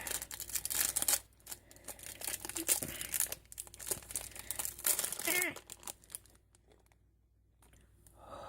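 Crinkly plastic packaging is peeled and crumpled open around a foot soap bomb, with close, irregular crackles and rustles for several seconds that then fade into near quiet.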